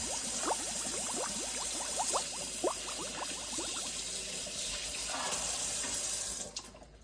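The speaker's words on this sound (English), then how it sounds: "Let's turn on the sink." A kitchen sink tap runs steadily for handwashing before cooking game-day wings, giving a close, constant hissing stream with small splashes and bubbling, then cutting off abruptly at the end.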